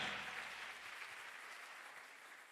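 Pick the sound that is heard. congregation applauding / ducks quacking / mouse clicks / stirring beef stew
congregation applauding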